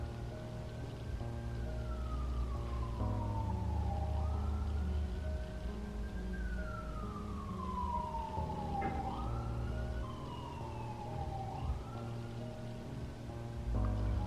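A police car or ambulance siren passes through the city, its wail sweeping up and down in long glides. It sounds fairly close and loud over a steady bed of traffic rumble.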